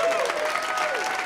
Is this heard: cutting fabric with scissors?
no